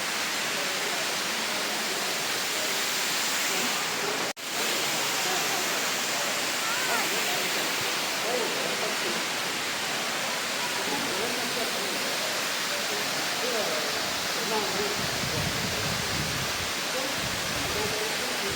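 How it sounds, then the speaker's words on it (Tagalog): A waterfall in the Sun-link Sea forest of Nantou, Taiwan roars as a steady, broad wash of rushing water, loud and unbroken throughout, with occasional faint voices beneath it. "Ganda ng falls."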